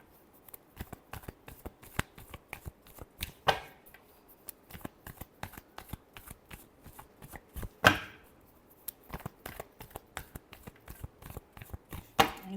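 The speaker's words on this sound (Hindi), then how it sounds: "last shuffle" Tarot cards being shuffled by hand up close: quiet, rapid papery riffles and flutters broken by sharper snaps and taps, with no one speaking.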